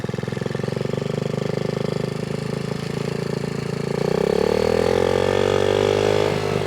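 Engine of a Honda Z50A minibike stuck at idle, a steady close putter that keeps chugging evenly, then shifts slightly in pitch and grows a bit louder toward the end, with no talk over it.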